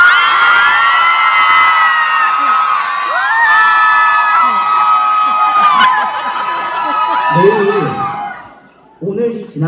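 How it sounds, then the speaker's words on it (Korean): A concert audience at a Korean gugak-trot show cheers and shouts loudly and continuously, with whoops and children's high voices rising over the crowd roar before it drops off abruptly, then a brief burst of noise returns. "그럼 함성 한번 질러보세요."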